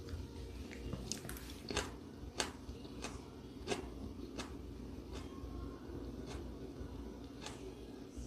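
Someone bites into a raw pepper and chews it, crisp crunches repeating irregularly, close but quiet over a steady low background rumble.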